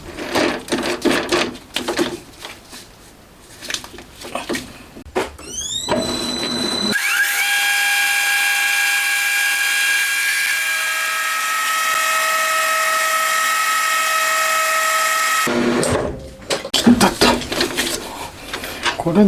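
A metal lathe with a quick-change tool post cutting a thread; a steady whining machine tone runs for several seconds between stretches of clattering handling noise at the start and end.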